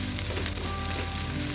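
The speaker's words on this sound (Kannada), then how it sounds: "ಕ್ಯಾಪ್ಸಿಕಮ್ ಕೂಡ ಫ್ರೈ ಮಾಡ್ಕೊಳ್ಳಿ." Onion and capsicum fry in a pan for a mushroom sandwich filling, giving a steady, dense sizzle that holds at an even level through the whole short stretch, close and without any voice.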